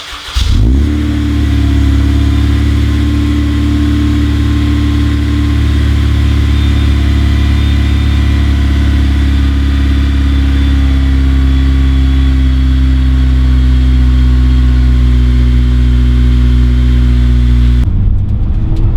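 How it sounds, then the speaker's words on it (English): A Honda Integra Type R with a K20a engine and cold air intake makes a cold start, catching with a burst and then settling into a loud, steady, high fast idle that drones close up until it is cut abruptly. "It's a cold start on the Integra Type R."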